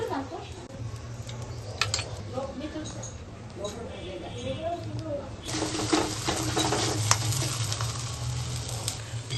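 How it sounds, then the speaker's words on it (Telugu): Polelu flatbread frying in oil on a pan, a continuous close sizzle that grows louder and brighter in the second half, with a person talking over it throughout. "ఫ్రై చేసుకోవాలి. ప్యాన్ పైన ఆయిల్ వేసుకొని"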